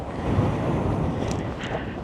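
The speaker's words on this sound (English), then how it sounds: "Woo, windy, windy." Strong wind buffets the microphone at a campsite on Ireland's Wild Atlantic Way in a steady, rumbling roar, with no one speaking.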